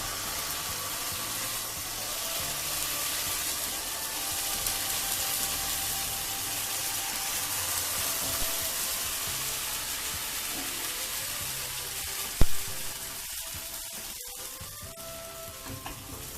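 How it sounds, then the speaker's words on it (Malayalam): Kerala-style appam batter hits a hot pan and sizzles steadily, a broad close frying hiss lasting throughout, with a brief clatter of utensils near the end. "ചട്ടി ചൂടായിട്ടുണ്ട്. ഇനി നമുക്ക് ഇതിലേക്ക് മാവ് ഒഴിച്ചു കൊടുക്കാം."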